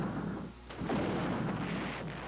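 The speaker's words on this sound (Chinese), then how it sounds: "结果在这边用大炮" Heavy ship cannon fire from the naval battle game Uncharted Waters 4, a dense booming roar that sustains loudly through the whole stretch with a brief dip before swelling again.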